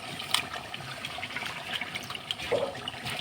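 Tap water pours and trickles steadily in a home kitchen while meat is rinsed, a faint continuous splashing with small irregular splatters.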